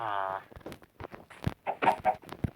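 A few short, choppy Minecraft chicken clucks in quick succession, slightly synthetic and game-like, close and moderately loud.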